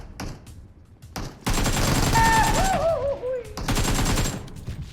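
Rapid gunfire bursts in a first-person shooter video game, loud and continuous over several seconds with whizzing, sweeping tones mixed in, following a brief quieter stretch.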